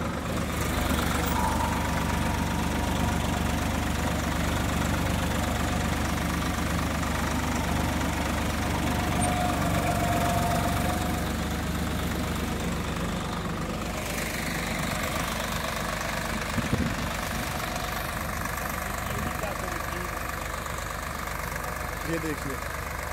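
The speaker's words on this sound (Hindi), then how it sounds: "ट्रैक्टर मीडियम के दूसरे में चला हुआ है" A new 2024 Swaraj 855 4x4 tractor pulling a 13-tine cultivator in medium second gear, its engine chugging with a steady, loud knocking drone throughout, with someone talking over it.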